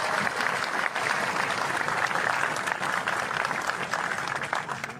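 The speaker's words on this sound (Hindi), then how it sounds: "तालियों की गड़गड़ाहट।" Thunderous crowd applause at an outdoor political rally in India, a loud, dense, sustained clapping that runs unbroken and close for the whole stretch.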